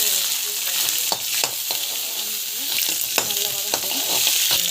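Mustard seeds, cumin and urad and chana dal sautéing in oil in a pan, a loud close crackling sizzle with frequent sharp pops and spatula scrapes throughout, no talk.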